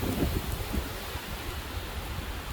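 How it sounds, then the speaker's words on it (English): Gusting wind during Hurricane Helene beside a riverside road in the rain, a steady loud broadband rush with heavier low buffeting swells, heard alone with no talking. "The winds have definitely picked up and it's definitely raining."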